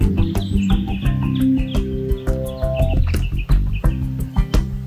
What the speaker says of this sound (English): The bushstone curlew of Australia adapts another tactic.